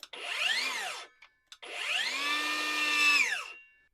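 A new Hyper Tough circular saw from Walmart, just unboxed and fitted with its blade, is triggered twice with no cutting. Each time the motor whines up to speed and then spins down. The second run is longer and louder, and there is no talking.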